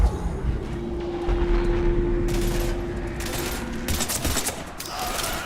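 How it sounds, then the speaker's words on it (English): Heavy gunfire in the video game Mass Effect 3, with a dense, continuous stream of shots and bursts filling the whole stretch at steady loudness, over a low mechanical drone. "We're almost to the Normandy. I've got Lieutenant Vega with me, but we're taking heavy fire."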